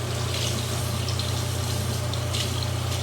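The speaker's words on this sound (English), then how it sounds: "And then run some water over it and wash it off." Water runs steadily from a tap to rinse dirt off, a continuous hiss of flowing liquid over a low mechanical hum, close and unbroken, with no voices.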